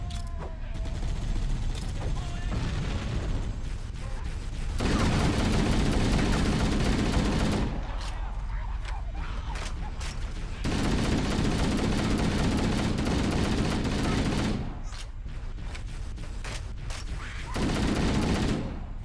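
Gunfire from Halo: Combat Evolved, with a dropship shooting at troops, comes in loud sustained bursts of rapid fire separated by quieter gaps, with occasional talk over the game sounds.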